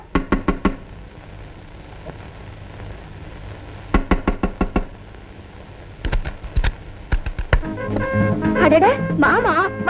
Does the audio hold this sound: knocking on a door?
yes